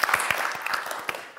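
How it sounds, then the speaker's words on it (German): Brief, light scattered clapping from a small studio audience, a thin patter that quickly fades. "So ein kleiner Mitleidsklatscher."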